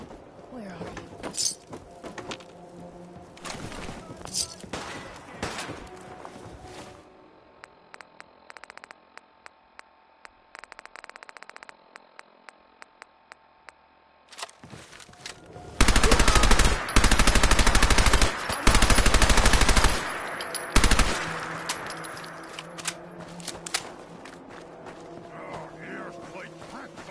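Automatic gunfire bursts loud in Fallout 4 combat, two heavy sustained volleys mid-clip with quieter clatter and a lull before them.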